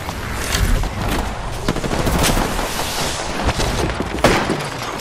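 Dense gunfire from the video game Apex Legends, loud rapid bursts and overlapping shots with booming thuds crowding together over five seconds, with no clear voices.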